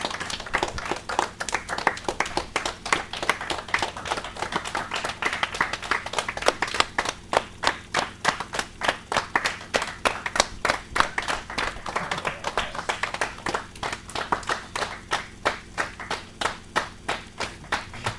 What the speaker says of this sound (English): Are you clapping until the next one?